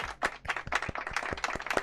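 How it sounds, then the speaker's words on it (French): A game show studio audience applauds with quiet, loose clapping, individual claps distinct and scattered rather than a dense roar. "On peut l'applaudir."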